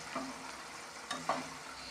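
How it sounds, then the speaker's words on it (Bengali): Spice paste for a katla fish head muri ghonto fries in a wok with a soft, low sizzle. Two or three quick scraping stirs stand out, and the sound is quiet and close with no voices. "যতক্ষণ না তেল ছাড়ছে কড়াই থেকে ততক্ষণ আপনি মশলাটা এভাবে ভাজা ভাজা হবে"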